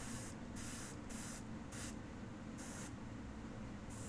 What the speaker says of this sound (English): I'm just going to pull the trigger more so I get color forced down onto that tail